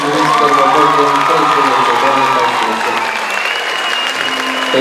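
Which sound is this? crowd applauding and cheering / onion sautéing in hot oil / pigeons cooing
crowd applauding and cheering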